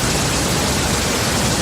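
Waterfall alert sound effect on a livestream: a steady, loud, broadband rush of falling water, continuous and unbroken from start to finish.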